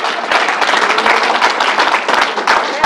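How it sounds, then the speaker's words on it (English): A crowd claps in applause at a New York coronavirus briefing, a dense, steady round of clapping that lasts the whole few seconds at close range. "Let's give the Reverend another round of applause."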